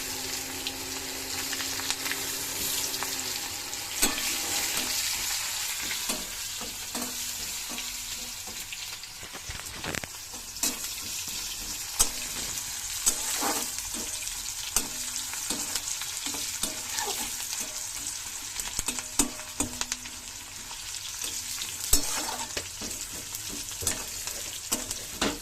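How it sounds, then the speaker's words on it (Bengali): Onions sizzle and fry in hot oil in a home kitchen pan, a steady crackling hiss with occasional stirring scrapes and faint water sounds, continuous throughout with no talking. "পেঁয়াজটা অর্ধেক ভাজা হয়ে গেছে"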